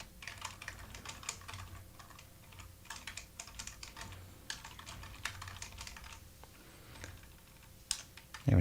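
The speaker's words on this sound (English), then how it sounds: "Having a real hard time typing this morning." Rapid typing on a computer keyboard, close and fairly quiet, with irregular bursts of key clicks and short pauses, ending in a louder knock.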